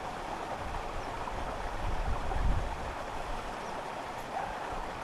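Waterfall flowing outdoors in sunshine, a steady broadband rushing wash that swells briefly midway and continues without talk.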